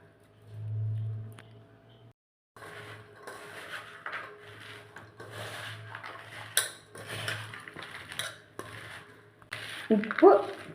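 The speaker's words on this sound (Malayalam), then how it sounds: "ഉപ്പ് നല്ലതുപോലെ പിടിക്കത്തക്ക രീതിയിൽ നല്ലതുപോലെ മിക്സ് ചെയ്യാം" Chopped nutmeg rind being mixed by hand with crushed rock salt in a bowl, a run of soft scraping, rustling and light clinks, preceded by a brief low hum.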